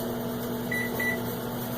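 A potato cooking in a running microwave oven, its steady motor hum and fan drone filling the clip, with a couple of faint brief hissing sizzle tones riding over it.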